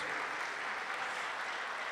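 A congregation at a charismatic Christian church service breaks into applause, a steady, even wash of many hands clapping that runs throughout at moderate distance, with no voices rising above it.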